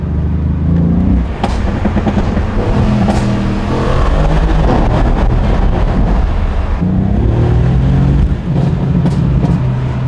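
A Mercedes C63 AMG's engine and exhaust roar loud and close, a steady heavy rumble that swells with revving and holds throughout with no talk.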